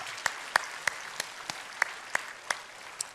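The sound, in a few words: church congregation applauding to welcome newcomers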